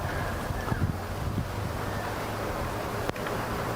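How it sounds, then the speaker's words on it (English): Wind at about five miles an hour gusting across an outdoor disc golf course during a championship round; a constant rumbling buffet against the microphone with a brief sharp knock near the end. "There's currently about a 5-mile-an-hour wind blowing right to left."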